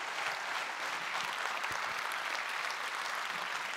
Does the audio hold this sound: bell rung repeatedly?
no